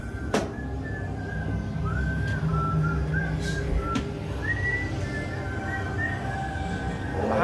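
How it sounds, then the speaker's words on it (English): An actor in the Temple of Terror haunted house at Land of Illusion Scream Park whistles a thin, wavering tune over dense, rumbling ambient noise, with a few sharp knocks and bangs nearby. "Behind me, I can hear him whistling."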